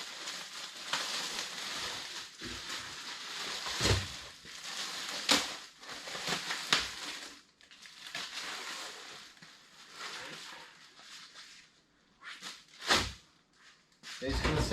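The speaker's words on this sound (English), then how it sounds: "let's get this other set of drawer liners opened up here and get those installed on the lower half." Drawer liners being handled and fitted into the lower drawers of a Husky tool box, with crinkling, rustling and several sharp knocks and drawer clunks scattered over about fifteen seconds, close by.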